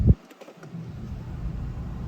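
A 2015–2019 Nissan Rogue with a P0101 mass airflow sensor fault sits idling, its low, steady engine rumble continuing evenly after a short knock at the start.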